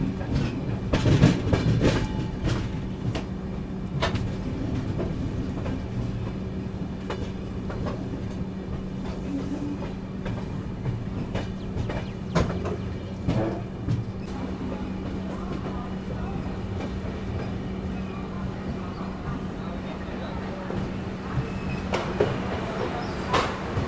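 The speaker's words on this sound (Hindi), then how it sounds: "बारिश के साथ अपनी ट्रेन बस एंटर हो रही है न्यू बोगईगांव जंक्शन की तरफ।" The 12423 Dibrugarh Rajdhani Express runs in the rain toward New Bongaigaon Junction, with steady rumbling wheels and clickety-clack rail joints heard from inside the coach and occasional squeals.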